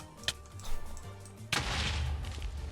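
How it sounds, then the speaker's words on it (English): A TNT explosion in Minecraft set off by a skeleton's fire arrow at a mob farm: a sharp click, then a sudden loud broadband blast at mid-clip with a rumbling tail that fills the rest. "I just heard an explosion."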